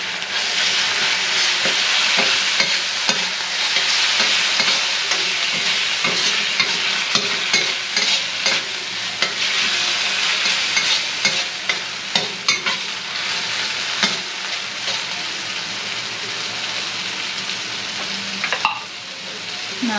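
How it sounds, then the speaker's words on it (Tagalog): Corned beef fries loudly in a pan, a dense continuous sizzle broken by frequent scraping and clattering strokes of a utensil stirring the meat, close up with no voices. "Lagay ko na itong corned beef."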